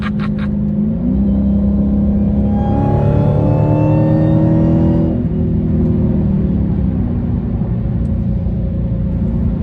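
A 2021 Hellcat-powered car engine revs up toward 6,000 rpm, a loud, steady rumble rising to a strained high-pitched roar that holds for a moment and then drops back to a deep idle.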